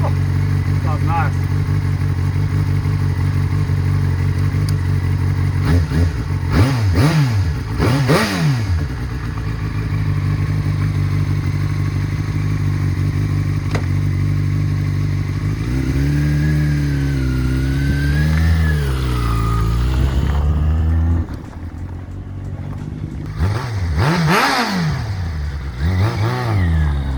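A salvaged Yamaha FZ6 motorcycle engine runs and revs, with several sharp throttle blips rising and falling over a steady idle. It sounds loud and close, and a few quieter stretches let the idle settle between revs.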